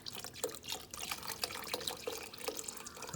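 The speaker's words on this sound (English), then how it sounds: "next add the other 32-ounce container of chicken stock" Chicken stock poured from a 32-ounce container into a pot of corn soup, a splashy trickling stream with scattered drips and gurgles throughout, close and alone.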